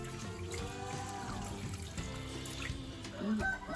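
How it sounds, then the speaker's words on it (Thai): Water sprays soil off the tuber of a fancy-leaved caladium (taro-type plant), a steady hissing wash running throughout, close by, with faint chirping in the background. "ขั้นตอนก็คือฉีดนะครับ ฉีดดินออกนะครับผม"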